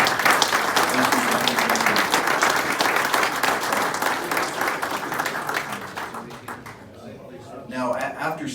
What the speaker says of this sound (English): we're going to recognize you all with a round of applause